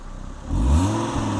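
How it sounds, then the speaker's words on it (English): A 2002 Volvo S60 five-cylinder with a 5-speed manual revs once from idle, the exhaust rising to a loud, deep burble heard from outside the car, then settling back. "hop in, give it a little rev. I want to hear the exhaust from outside"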